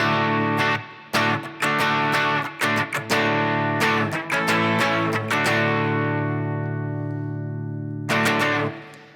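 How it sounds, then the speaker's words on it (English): Electric guitar through a lightly set overdrive pedal plays a run of choppy strummed chords, then lets a chord ring out and fade before one last strum. "my first gain overdrive,"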